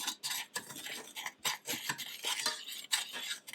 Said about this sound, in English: And I'm just going to stir that together a little bit.